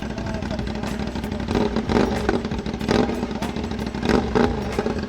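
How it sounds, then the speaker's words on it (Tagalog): A CFMOTO 450SR motorcycle with an open exhaust pipe rumbles loudly nearby. It gives repeated sharp throttle blips and a clattering idle between them, with a voice talking over part of it. "sound check tayo sa open pipe no"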